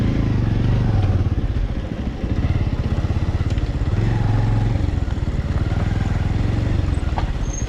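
A motorcycle engine chugs at close range with a steady, loud, throbbing idle that barely changes throughout.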